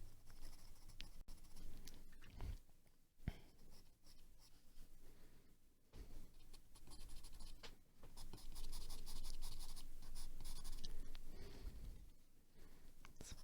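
Pastel pencil sketching a portrait on paper that resists the pigment, giving close, continuous scratchy strokes with firm pressure, steady and rhythmic across the whole stretch with brief pauses between strokes.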